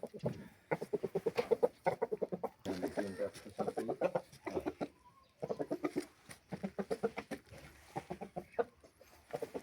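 A fighting rooster clucking close by in short, rapid bursts of throaty calls, repeated in clusters with brief pauses between them, with no talk.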